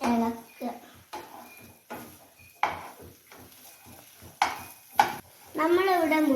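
Egg being stirred and scrambled in a frying pan with faint sizzling and scraping of utensil against the pan, in short bursts separated by pauses, with a voice and other talk heard over it.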